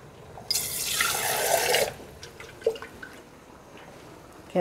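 Water pours briefly into a pan of rabbit cacciatore sauce, a short splashing stream lasting over a second, followed by a few faint drips and clinks.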